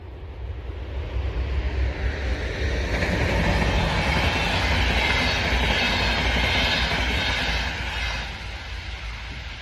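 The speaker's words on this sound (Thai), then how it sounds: "เอารถไฟมาพี่น้องค่ะ" Train rolling past in rural Finland, a loud, steady rumble with rail clatter that swells through the middle and eases slightly toward the end, with no voices.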